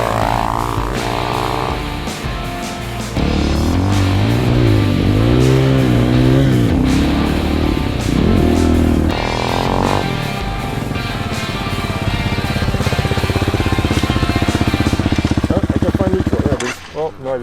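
An Amazon Hawk DLX budget motorcycle ridden off-road, engine droning loud and close with repeated revving rises and falls, then cutting off abruptly near the end.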